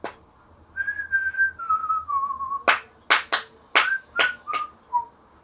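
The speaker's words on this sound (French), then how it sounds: "Et puis on peut également siffler." A person whistles a short descending melody of held notes, then several sharp snaps or claps punctuate shorter whistled tones, close and clear.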